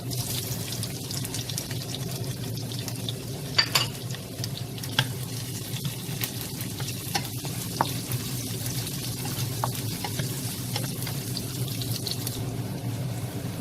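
Onion sautéing in a pan for pinakbet with crispy pork belly, a steady soft sizzle and frying hiss running throughout with occasional stirring clicks and scrapes, no talk.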